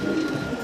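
A pair of white show king exhibition pigeons gives a soft, low, throaty coo, fairly close and quiet against faint background noise.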